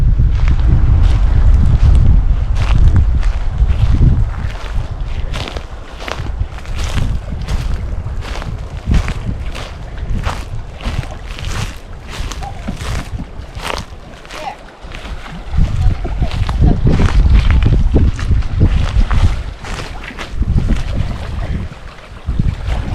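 Strong wind gusting at a lake campsite, heavy buffeting rumble across the microphone with rushing gusts that rise and fall continuously, no clear talk.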